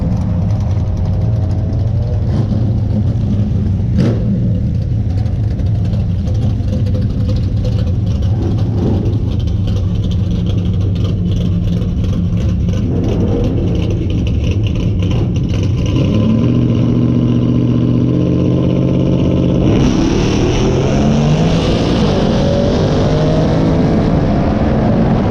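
A cammed Ram pickup truck racing a Shelby GT500 off the line: a loud, sustained engine roar with rising revs and shifts close to the listener, climbing sharply again near the end.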